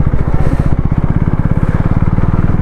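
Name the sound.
KTM Duke 390 motorcycle engine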